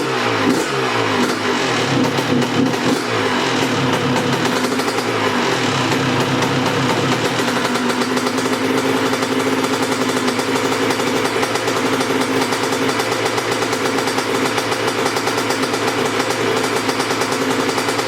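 A Honda CR125 two-stroke dirt bike engine runs loud and close, buzzing and revving unevenly at first, then settling into a steady, sustained idle drone.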